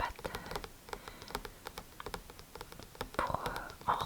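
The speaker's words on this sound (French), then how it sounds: "je vais vous faire un petit peu de bruit de clavier de PC" Soft, close PC keyboard typing for ASMR, an irregular patter of light key clicks with a few heavier taps near the end, no voice.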